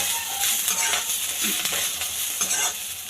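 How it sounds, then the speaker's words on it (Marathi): Coriander stems fry in a hot pan with a continuous bright sizzle, close and loud, broken by light scraping as they are stirred. "त्या पण ह्यामध्ये दोन मिनिटं फ्राय करून घ्यायच्या"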